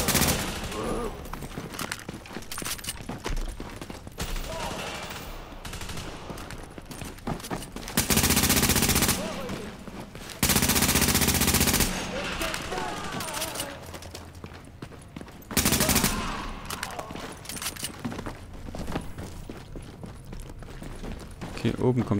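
Bursts of rapid gunfire in the video game The Division crackle in loud volleys over a continuous background of game noise and effects.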